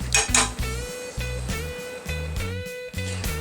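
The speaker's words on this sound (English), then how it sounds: "I'm going to be using use my tongs here to sort of mix it around a little bit" Metal tongs clank and scrape against a pan while stirring melting cheese sauce over very low heat, a steady series of close, ringing clinks and knocks with no talk.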